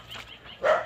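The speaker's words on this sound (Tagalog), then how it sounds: "Ang tatapang ng aso rito." A dog barking in a neighborhood, a couple of short, fairly close barks with a brief yip between them, heard alone without talk.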